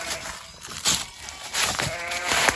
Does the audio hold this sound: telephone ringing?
no